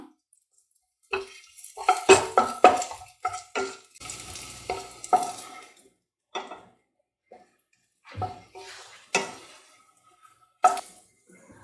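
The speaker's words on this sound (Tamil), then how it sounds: "இஞ்சி கொஞ்சம் நல்லா வதங்கிடுச்சு" Ginger sautéing in a pan for pirandai (adamant creeper) chutney, with intermittent scrapes and stirs of a spatula over a soft sizzle in bursts and pauses, no talk.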